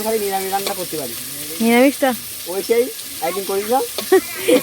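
Chow mein noodles fry in a hot pan with a continuous sizzle and occasional stirring, largely masked by voices talking over it.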